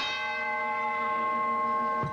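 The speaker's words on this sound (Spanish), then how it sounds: "Sonó la campana" A single ring of the wrestling ring bell at a 1982 WWC event in Puerto Rico, a clear sustained metallic tone that hangs and slowly fades, with a faint knock at the end.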